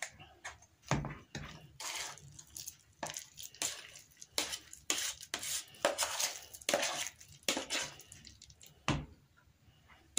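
A cream mixture is stirred in a bowl for petit fours, giving quiet, irregular scraping and clinking strokes of a utensil against the bowl with short pauses between them.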